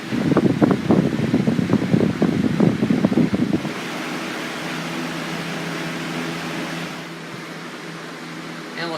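A 2000s Lakewood 101A 20-inch box fan running on high speed, a steady broad whooshing hum that continues alone after a few seconds of talking at the start.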